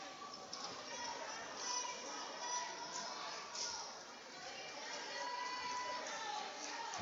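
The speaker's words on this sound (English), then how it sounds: "A great crowd on hand." Crowd of fans in a gym at a varsity high school volleyball match between Robbinsville and Swain County in Graham County, North Carolina, a steady wash of chatter and murmuring with occasional swells, heard from a distance.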